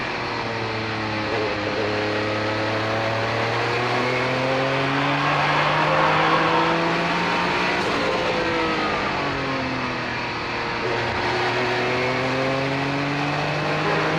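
Race cars, among them a Porsche 962 and Corvette and BMW sports cars, battle at the Monterey historic races: several engines howl and shift through gears, rising and falling as they pass, loud and continuous without talk.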